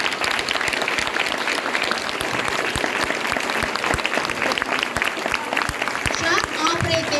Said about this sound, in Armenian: Հիմա էլ ծափերով ասում ենք շնորհակալություն թե ձեզ,